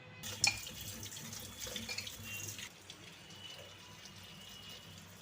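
Tap water runs steadily into a sink while raw jackfruit is washed, with a few small splashes and knocks early on before the flow settles into a quieter, even rush.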